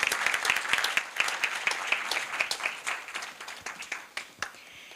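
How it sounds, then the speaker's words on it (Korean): A lecture-hall audience applauds after a student presentation at a university business event, with steady, moderately loud clapping that gradually tapers into scattered claps. "다시 한번 큰 박수 부탁드립니다."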